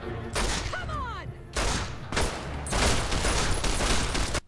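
Modded weapon gunfire from the video game Fallout New Vegas, using a stock firing sound: a loud, dense burst of rapid shots in several bursts with a brief whistling sweep early on, no talk.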